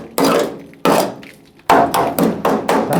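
Several sharp, loud claw hammer blows on car body metal, first spaced apart and then in quicker succession, each with a short ringing decay.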